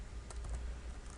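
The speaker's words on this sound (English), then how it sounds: "just start typing in text and content" Computer keyboard typing while entering text into a page editor: a quick run of light, close key clicks with a steady rhythm, alone without talk.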